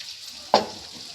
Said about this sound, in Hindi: अब मैं डाल दूँगी इसमें छाछ को